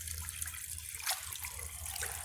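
Water running from a tap into a tank in an off-road setting, a steady broadband rush of flow with a low hum underneath, continuous and close throughout.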